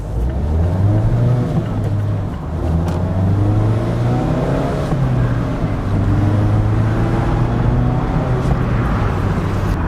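A 2024 Mazda Miata ND3 sports car drives along back roads, its engine loud and close from the cabin, revving up and easing through gear changes in rising and falling pitch, with no talk.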